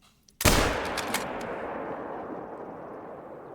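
A rifle shot fired at an ibex while hunting in theHunter: Call of the Wild: one sharp, loud report that rolls out into a long, slowly fading echo over several seconds, and no voices.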